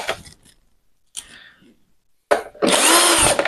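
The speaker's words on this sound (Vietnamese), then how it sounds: "Em có cái khoan pin thì nó làm nó nhanh hơn." A cordless drill drives screws while an electric rice cooker is reassembled, with short bursts of whirring and then a loud, sustained close-up motor whine at the end.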